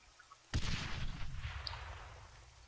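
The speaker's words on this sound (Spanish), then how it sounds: "Al suelo, al suelo, han tirado una granada." A grenade explodes in the Arma 3 video game, one sudden loud blast that trails off into a long rumbling decay, with scattered faint crackle and a brief distant pop afterward.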